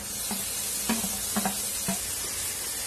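Chopped tomato and onions are sautéed in a pan for an apple gourd curry, giving a soft, steady sizzle with a few light stirring scrapes, close and alone.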